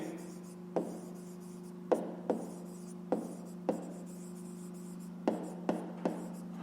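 A pen writes down the answer to a fifth-grade math exercise, making faint scratching strokes with several soft taps over a steady low electrical hum, close and quiet with no talk.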